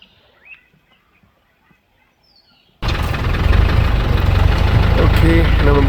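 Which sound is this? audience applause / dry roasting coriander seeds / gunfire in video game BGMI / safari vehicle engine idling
safari vehicle engine idling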